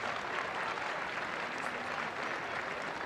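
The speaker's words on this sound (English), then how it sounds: "she'll receive a round of applause from both sets of fans as she makes her way off" A large stadium crowd at a women's football match applauds continuously, a steady wash of distant clapping filling the whole stretch.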